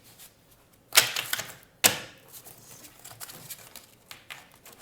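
A deck of tarot cards is shuffled by hand, two sharp fluttering riffle bursts close together followed by lighter taps and shuffling rustles in a quiet room.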